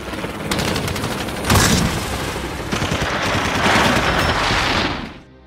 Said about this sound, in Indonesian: Di waktu yang sama tiba-tiba datang adik Orsetti menggunakan helikopter yang langsung menembaki Alec dan Tom.